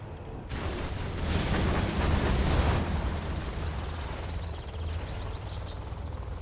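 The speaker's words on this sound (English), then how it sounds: "Artillery now coming in for Excal." Rumbling artillery explosions in a real-time strategy video game, a sustained roar that swells and then slowly fades, with mechanical creaks and clanks layered through it.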